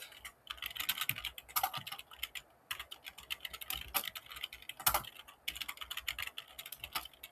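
Computer code is typed on a keyboard in steady bursts of rapid, close key clicks with brief pauses between runs and occasional louder keystrokes, and nobody speaks.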